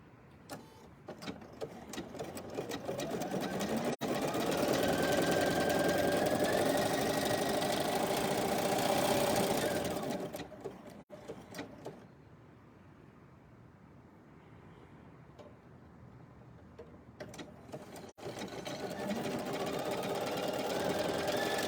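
A BERNINA sewing machine fitted with a braiding foot couches cord, its needle hammering in a fast, steady rhythm that runs loud for several seconds, drops to a softer hum, then picks up again near the end.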